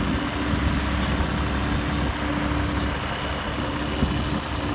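The engine of a Hino Mega dump truck drones steadily and loudly as it strains under load, a close, continuous low roar without pauses.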